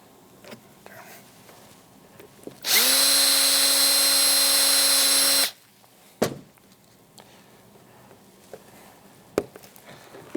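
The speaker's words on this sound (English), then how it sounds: "I put the drill on a slight angle. I kind of angle it away from the vent just a little bit." A cordless drill whines loudly at steady speed for about three seconds, drilling for a vent kit on a Polaris AXYS snowmobile, followed by a couple of sharp knocks and quiet handling sounds.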